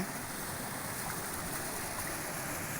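Steady rushing water flows continuously down from a hillock onto a pond embankment, a broad even wash of sound with no voices, fairly soft and constant throughout.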